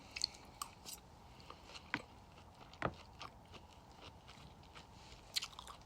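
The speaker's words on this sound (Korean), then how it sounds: "먹어보겠습니다." Food being bitten and chewed close to the microphone, with faint irregular crunchy bites and mouth sounds spread over several seconds against a quiet background.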